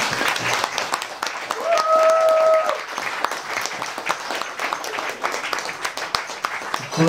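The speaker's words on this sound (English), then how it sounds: "Please give another round of applause for Vero." Stand-up comedy audience breaking into sustained applause, a dense wash of clapping that swells and slowly fades, with a brief whistle or cheer near the start.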